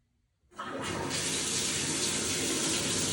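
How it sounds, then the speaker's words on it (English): A tap is turned on for a dog bath: after half a second of near silence, water suddenly gushes and keeps running loudly and steadily into a tub or basin. "So I'm going to go ahead and turn the water on"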